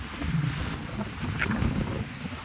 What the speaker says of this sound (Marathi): वारा तर खतरनाक आहे, एकदम खतरनाक मित्रांनो